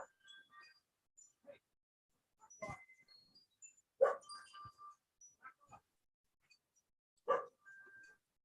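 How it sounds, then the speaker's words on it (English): Dogs bark in scattered, fairly faint yips and woofs with quiet gaps between them, reacting to someone at the door somewhere in the house. "My dogs are barking. Somebody's at the door."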